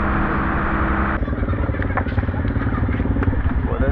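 Motorcycles are unloaded off a boat: engines rumble close by while metal clatters and knocks, with people talking in the background.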